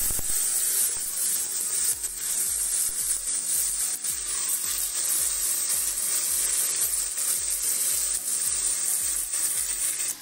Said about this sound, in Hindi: तेल गरम हो चुका है। अब मैं डाल रही हूँ थोड़ी सी लाल मिर्च, और मैं इसमें चिकन को ऐड कर दूंगी।